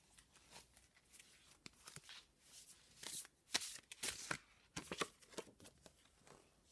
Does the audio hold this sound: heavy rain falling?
no